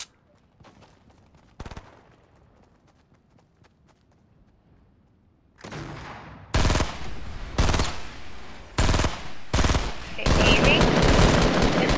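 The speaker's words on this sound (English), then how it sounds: "Oh, you're shooting back there still?" Gunfire erupts in a Fortnite match: after a quiet stretch with faint background noise, loud, rapid bursts of automatic fire crackle close by and build into a dense, sustained volley.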